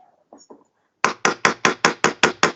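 A chasing hammer strikes a stamped metal ring or trinket dish at an even pace, about eight sharp ringing taps close up. A few softer taps come first, and no one talks.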